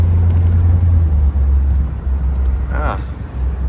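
A 1957 Ford Thunderbird drives on the road, heard from inside the car as a steady, loud low engine and road rumble.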